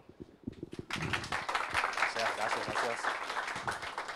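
Applause from a conference audience in Resistencia welcoming a speaker on mobile automation, a dense steady wash of clapping after a few scattered early claps, with talk mixed in underneath.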